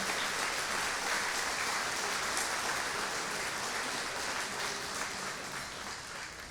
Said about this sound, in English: So give yourselves, if you will, another round of applause for what you have done.